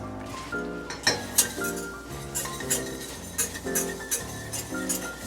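A metal whisk scrapes and clinks against a pan as flour is worked into a butter roux for a Mornay sauce, with quick, irregular taps and rattles close up and no voices.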